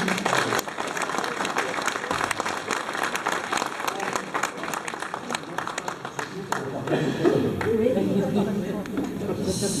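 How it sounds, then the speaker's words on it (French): An audience at a mayor's New Year address in Saint-Hilaire applauds steadily with dense clapping for several seconds, mixed with murmuring voices, the clapping thinning toward the end. "Oui, on peut l'applaudir."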